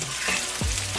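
Fish for Jamaican escovitch fries in a pan on a turned-down stove, giving a steady close hiss of sizzling oil with a brief stir or scrape, no voices.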